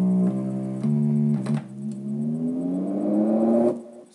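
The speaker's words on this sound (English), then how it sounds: "You can just come with a simple bass line." Korg microKORG synthesizer playing a simple bass line, sustained buzzy tones stepping between notes, then a long upward gliding pitch, loud and close with no talking.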